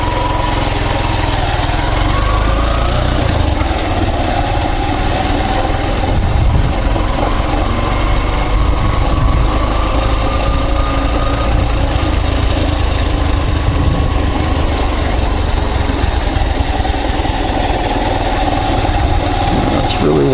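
A loaded motorcycle carrying two riders runs steadily on the way to a market, its engine droning continuously and close with road and wind rumble, while voices talk over it.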